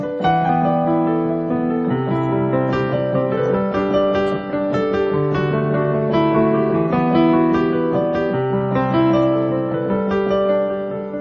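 Dense piano playing fills every beat with chords and extra notes, sustained and busy throughout, without any talking.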